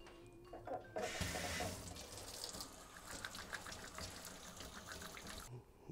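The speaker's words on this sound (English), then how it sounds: "And I gotta wash my hands again." Running tap water splashes steadily into a sink as hands are washed during home cooking of pork, a continuous gush lasting most of the clip before cutting off near the end.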